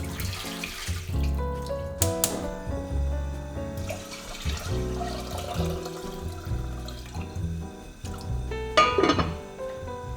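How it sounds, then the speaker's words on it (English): Water sloshes and swishes around rice in a pot, with a running tap, splashing and clinks of the pot in irregular bursts. "I'm just gonna swish some water around in the pot and dump it out"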